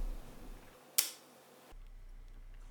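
A Sony A7R IV firing its full mechanical shutter for a 1-second exposure: a sharp single click, a second of near silence, then a soft closing click.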